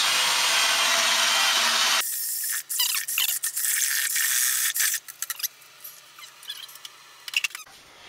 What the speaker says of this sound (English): Just connect it to a drill.